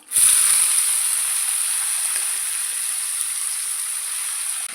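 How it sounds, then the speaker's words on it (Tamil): Banana flower with curry leaves sizzles in sesame oil in a pan, producing a steady, bright hiss of frying that holds evenly throughout, close and fairly loud with no talking. "இந்த பூவை நல்ல எண்ணெயிலேயே ஒரு அஞ்சு நிமிஷத்துக்கு வதக்கி விடுங்க"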